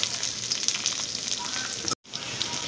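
Onion fries in hot oil together with dried chilies, garlic and green chilies, producing a loud, continuous close sizzle that drops out abruptly for a moment before resuming.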